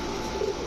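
A male Kobra Rampuri pigeon gives a brief, soft coo close by, over a steady background hum.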